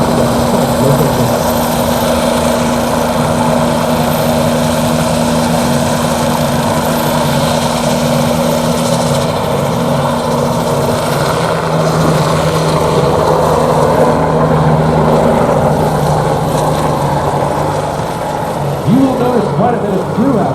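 A helicopter at an airshow makes steady, droning rotor and engine noise that fills the scene continuously, loud and close, with voices faintly mixed in beneath it.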